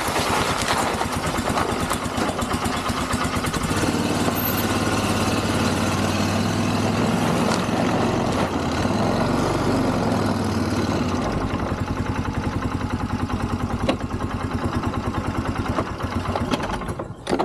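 Quad ATV engine idling with the choke partly on in snow, a steady loud close-up putter with a low throbbing chug that rises and settles midway, running continuously with no talk.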